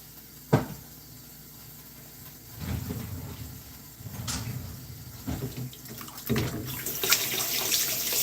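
Hot water runs from a kitchen tap into a sink, a steady splashing flow that starts a few seconds in and swells in bursts, with a sharp knock near the start and faint clatter around it.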